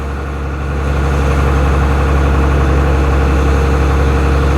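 A Ford Cargo 0811 truck's six-cylinder diesel runs with a steady, deep rumble close by, building slightly in the first second and then holding an even drone.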